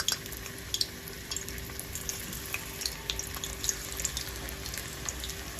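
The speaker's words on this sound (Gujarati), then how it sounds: "તેલ ગરમ થઈ ગયું છે, આપણે જે કેળા છે તે અંદર એડ કરીશું।" Raw banana slices frying in hot oil for crisp wafers, a steady dense sizzle with scattered small pops and crackles throughout, close and fairly quiet.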